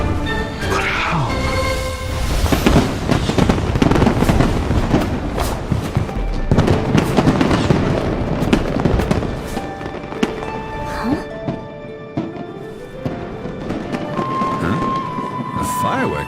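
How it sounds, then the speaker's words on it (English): Continuous crackling fireworks in the video game Genshin Impact, with dense pops and booming bursts layered over a rumbling backdrop, loud and close, lasting throughout. "A fireworks show?"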